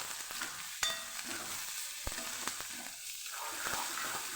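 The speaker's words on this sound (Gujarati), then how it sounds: "આપણે જે ડુંગળી લીધેલી એ પણ આપણે અહીંયા ઉમેરી દઈશું હવે આપણે બધું સાતડી લેવાનું છે" Onion and curry leaves sauté in hot oil in a pan, giving a steady close crackling sizzle with occasional scraping stir sounds and small pops throughout.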